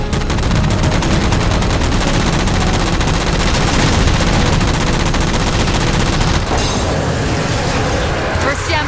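Gunfire in the video game Halo MCC aimed at jammers during tank combat, a loud, dense, continuous burst of rapid automatic shots with booming impacts that stays thick for the whole stretch, with game sounds mixed in.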